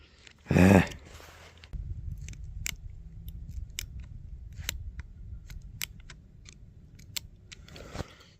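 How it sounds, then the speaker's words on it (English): Rear sight on a Taurus Tracker 44 Magnum revolver with a 4-inch ported barrel is turned with a screwdriver, giving about eight faint, crisp clicks spaced out over several seconds after one louder sharp snip-like click, over low background hum. "it actually gives you little clicks instead of just turning"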